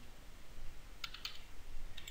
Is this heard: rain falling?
no